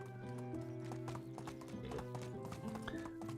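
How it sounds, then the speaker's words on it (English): Horse hooves clip-clop steadily in the Medieval Dynasty game as the animal arrives, a snort or whinny rising midway, over continuous tonal game music and ambience. "I wish the horse would come in just a little bit quicker."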